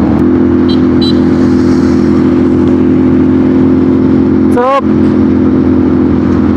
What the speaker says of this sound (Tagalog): ay motor yun.